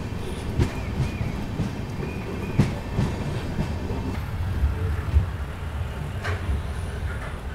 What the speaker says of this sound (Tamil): நம்ம கொல்லம் எக்ஸ்பிரஸ் ஆல்மோஸ்ட் அரைவ் ஆகிட்டுருக்கு.